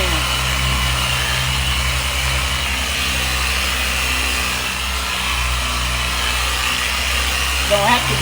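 Dual-action buffer polishing the paint of a 1979 Mustang notchback at 4,000 RPM, a steady close motor hum and whir running throughout, with someone talking over it.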